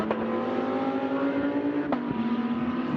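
Race cars at the 2023 Sepang 12 Hours, including the Absolute Racing Audi, drone steadily with a loud sustained engine note that shifts pitch briefly as gears change or cars pass.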